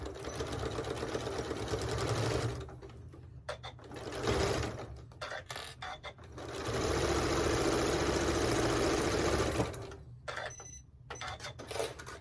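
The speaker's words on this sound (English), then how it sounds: "So now I'm just going to put that under the needle here, and we're just going to start stitching." Sewing machine stitching a quilted tote bag with flex foam, a close, steady mechanical whir running in long bursts separated by brief pauses and clicks, without speech.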